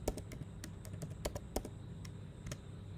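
Keystrokes on a computer keyboard entering text into a software search bar, a quick run of soft, close clicks in uneven bursts, heard alone.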